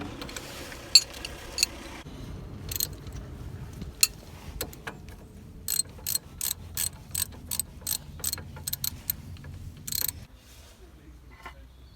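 A ratchet runs down the brake caliper bolts on a Nissan Micra K11 during a front disc and pad job, giving a near series of quick, even clicking bursts, with some mechanical clatter early on.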